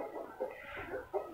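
Hens kept on a house rooftop cluck softly in two short bursts, a little distant and faint, with no voices over them.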